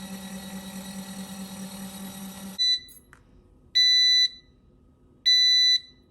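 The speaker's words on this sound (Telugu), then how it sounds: "అయిపోయాక బీప్ వస్తుందన్నమాట ఆ విధంగా." A compact washing machine's low motor hum cuts off, and then the machine gives three bright electronic beeps at the end of its cycle. The beeps are loud and close, with short pauses between them.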